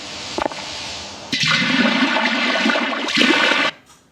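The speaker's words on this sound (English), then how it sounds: "You pour it into the drainage here, like this, yeah?" Toilet flushing: a loud, close rush of water swirling down a drain, starting with a brief click, surging for about two seconds, swelling again, then cutting off to a quiet trickle.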